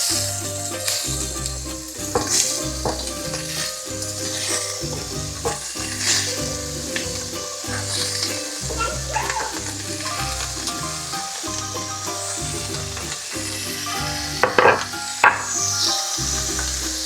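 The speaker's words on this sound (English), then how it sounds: "So now I'm gonna add my beef." Beef hits a hot pan for carne en su jugo, a Mexican dish, and sizzles loudly and continuously, with occasional stirring knocks and scrapes throughout.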